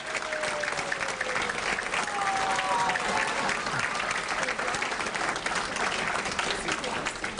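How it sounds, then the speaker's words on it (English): A crowd at a Rotary youth awards evening claps for performing magicians, a steady wash of applause with a voice speaking faintly over it. "Give them a big round of applause."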